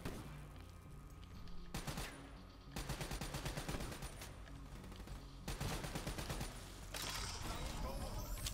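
A light machine gun in Call of Duty Black Ops 3 fires sustained automatic bursts, loud and dense, broken by short pauses, with a voice talking over parts of the shooting.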